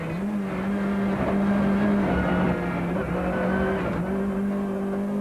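Rally cars from the 1994 Mountain Trail event blast across a low concrete river causeway at high speed, a loud continuous engine drone with steady harmonics and a brief dip and lift in pitch, close and dominant throughout.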